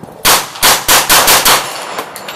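KRISS Vector fired with reloaded ammunition, loud close gunshots in a quick series of about six to seven rounds, each blast ringing out before the next, with no talk over them.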